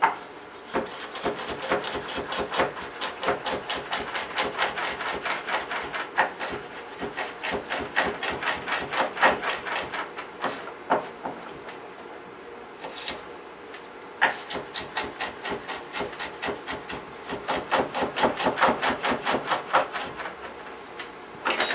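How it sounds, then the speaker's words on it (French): Shallots being minced finely with a knife on a wooden board for a nettle, shallot and cream sauce: fast, steady rhythmic chopping taps, close and clear, with a few short pauses and no talking. "Donc les échalotes, on va les émincer assez finement."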